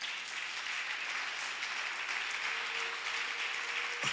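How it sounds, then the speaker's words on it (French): A church congregation applauding to acclaim the Lord, a dense, steady wash of clapping from many hands that continues throughout without pause, with no one speaking over it. "Est-ce que quelqu'un peut acclamer le Seigneur?"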